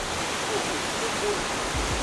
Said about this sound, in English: We are counting every waterfall that we see on this trek.